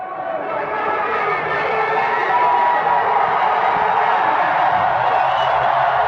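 A large crowd at an XFL Enforcers football game cheers and roars in a continuous swell, the noise building slightly and holding steady with no clear voices standing out.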